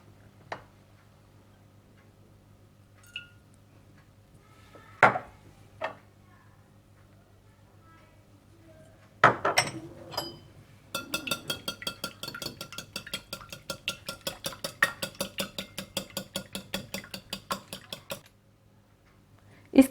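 Cream and eggs being whisked together in a bowl, a fast run of light, even clinks and taps against the dish that follows a few scattered knocks.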